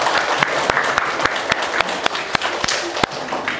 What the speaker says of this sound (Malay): Tepuk tangan untuk Bang Wandi tu.